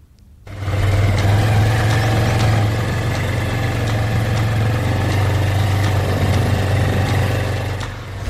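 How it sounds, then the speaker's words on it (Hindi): A motorbike engine labours up a muddy, badly rutted dirt road in a village in Surguja district, a steady, loud low drone that holds throughout with no talk. "जितनी मशक्कत इस मिट्टी वाली बदहाल सड़क पर चढ़ने में बाइक को हो रही है"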